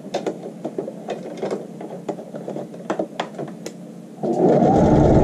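A sewing machine stitches the inseam of a child's shorts in a rapid clattering run of needle strikes, close and clear, then a louder, denser mechanical whir near the end.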